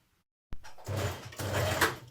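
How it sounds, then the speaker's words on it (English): Domestic sewing machine stitching the side seams of a summer dress, starting with a sharp click then a steady motor whir in two close bursts, running loud and near with no talk. "And we're now going to stitch the side seams on both sides."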